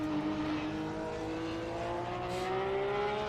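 In a racing video game, a race car's engine drones steadily and climbs slowly in pitch while it overtakes another car on the inside, a continuous close, smooth whine with no talking.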